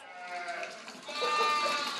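A breeder's sheep bleat during a summer heatwave in Burgundy, several wavering, nasal calls overlapping close by with no pause between them.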